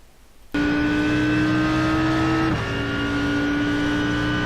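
An Audi R8 GT3 race car in a racing video game circuit at COTA, engine roaring loud and steady as it accelerates, with a brief dip around a gear change before the drone resumes at high revs.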